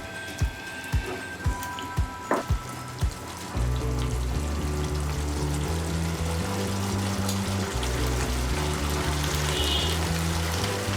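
Water poured from a glass into a cooking pot, a steady splashing pour running under background music after a few sharp taps.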